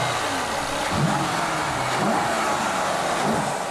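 Mercedes-Benz CLS 63 AMG from 2012 with a 5.5-litre turbocharged V8, a steady engine drone with a few rising revs over road and wind noise.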